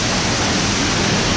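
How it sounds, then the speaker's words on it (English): Fast water rushing down at Kanarra Falls in Utah, a loud, close, continuous broadband roar of swift-moving water with no voices over it. "the water is racing down it"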